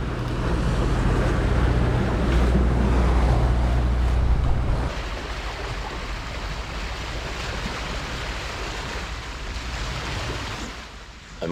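A sailboat pitches through rough tidal race waters off the north side of Jura, with continuous surging waves, rushing water and wind buffeting the microphone, heavier and louder at first, then easing to a steady wash.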